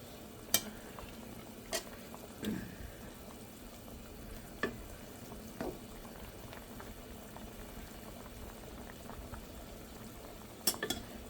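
Hilsa fish curry with pumpkin simmers in a pot, a soft, continuous bubbling broken by a few sharp clinks and stirring knocks, quiet and close, with no voices.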